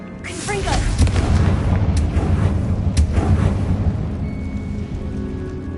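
A fiery Confringo spell goes off in a Harry Potter video game with a heavy booming blast, followed by a dense rumbling roar that carries through the rest of the moment, loud and close.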